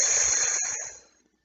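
A voice imitates the steady whispering hiss of a lawn sprinkler: one soft, breathy shush held for about a second before fading into silence.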